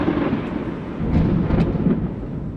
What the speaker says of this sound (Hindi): आकाश में अशुभ बादल गरजने लगे।